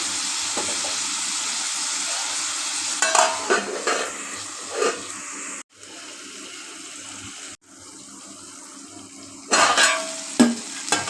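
Fish pieces cooking with rock salt in a pan for a fish curry with broad beans and tomato, a steady sizzle with occasional stirring scrapes and brief breaks, close and moderately loud with no voices.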